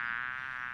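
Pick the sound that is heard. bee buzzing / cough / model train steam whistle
bee buzzing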